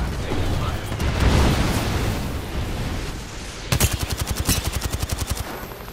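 Apex Legends gunfire: after a few seconds of rumbling ambience, a close, loud automatic burst fires around a dozen rapid, evenly spaced shots.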